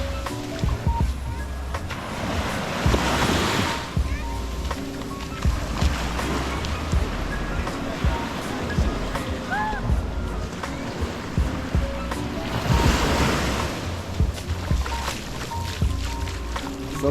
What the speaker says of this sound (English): Awesome, the crashing waves.